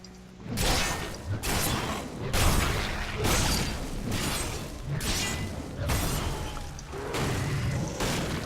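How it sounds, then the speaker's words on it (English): Repeated booming bursts from Diablo 3 gameplay hit in a rhythmic series of about seven or eight blasts, each a broad crash with a short whooshing tail, loud and close with no talking. "Look at the explosions!"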